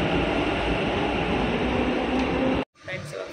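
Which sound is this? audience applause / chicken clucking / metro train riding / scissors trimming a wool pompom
metro train riding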